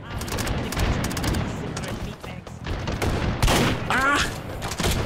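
Rapid gunfire bursts and shots from the VR shooter Hot Dogs, Horseshoes & Hand Grenades in a team battle mode, dense and loud throughout, with a brief whistling tone near the end.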